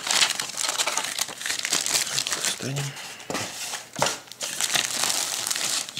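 Thin plastic bags holding the parts of an Academy 1:72 P-40 Warhawk model kit crinkle and rustle up close in repeated bursts while someone talks over them.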